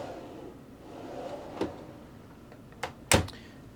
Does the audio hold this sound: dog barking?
no